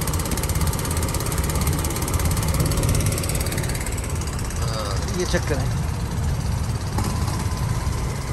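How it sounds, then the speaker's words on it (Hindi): A Nile river boat engine runs near Cairo, a steady droning rumble that holds loud throughout, with people talking over it. "अच्छा जी, अब इंजन ऑन हो गया है,"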